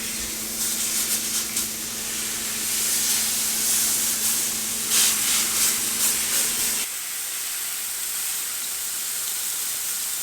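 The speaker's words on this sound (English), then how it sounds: "Now we're gonna add our beef patties." Beef patties sizzle loudly in a hot Made In pan, a dense steady frying hiss that runs for about seven seconds and then drops to a quieter simmer.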